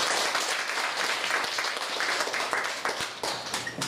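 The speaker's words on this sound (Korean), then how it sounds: "박수 한번 쳐주세요." An audience at a lecture on filial piety for elementary schools claps loudly and steadily, a dense wash of applause throughout that tapers slightly toward the end.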